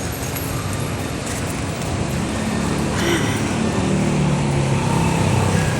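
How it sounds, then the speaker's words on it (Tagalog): Night street traffic on a Thursday, heard while walking outdoors: a steady, continuous roar of passing cars and road noise, fairly loud and unbroken throughout, with no clear speech. "Super duper traffic ngayon."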